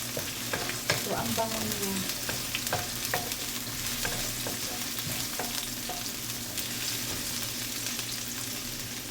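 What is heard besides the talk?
stirring soup noodles with carrots in a frying pan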